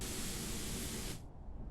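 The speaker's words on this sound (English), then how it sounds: "It's just a simple spray." The paint spray tool in Space Engineers gives a loud, close, continuous broadband hiss that cuts off sharply after about a second, leaving a fainter low hum.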